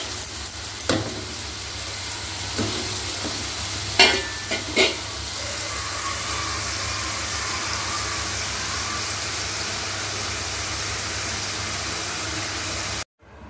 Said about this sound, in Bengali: আলু ভাজছি।